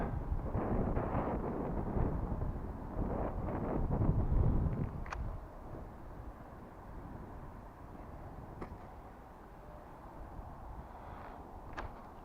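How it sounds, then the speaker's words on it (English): Gusty wind roars across an outdoor microphone during a cardboard stunt glider flight, loud at first and then easing into a steadier rush with a few faint clicks. "Wind."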